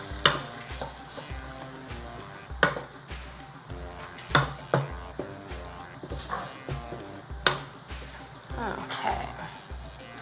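Food in sauce sizzles in a shallow pan while being stirred, with scraping strokes and sharp clinks of the utensil against the pan repeating every second or so, under a steady low hum.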